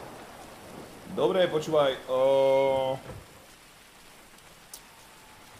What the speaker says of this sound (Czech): Úplne jedno, že mi prší.